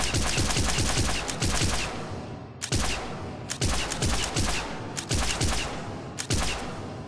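Arc Pistol from the video game Mass Effect 3 firing repeatedly in rapid crackling bursts, loud and close, with brief pauses between volleys and no talk over it.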